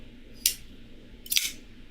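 Folding knife flicked open and shut, two sharp metallic snaps about a second apart, close and crisp over quiet background hum.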